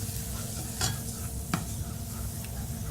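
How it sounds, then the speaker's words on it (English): Enchilada sauce with chipotle peppers in adobo being stirred in a pan, a continuous bubbling sizzle with a couple of sharp utensil scrapes against the pan, close and without speech. "I'll kind of stir that for you"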